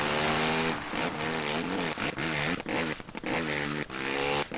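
A 450 dirt bike engine in the video game MX vs ATV Reflex, on a wet custom track, revs loud and close, its pitch rising and falling with quick throttle blips and gear changes.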